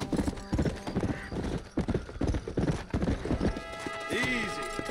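Horse hooves clip-clopping at a gallop in the Red Dead Redemption video game, a dense rhythmic run of hoofbeats with a whinny near the end and game voices talking over it.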